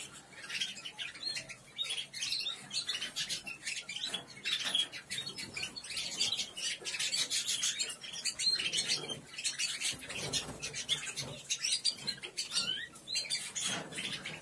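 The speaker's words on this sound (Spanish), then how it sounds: "Ahora sobre todo los pájaros tienen que estar tranquilitos." Aviary birds chirping and tweeting in a dense, busy chorus, with fluttering wings and scratchy patter mixed in, fairly faint and without talk.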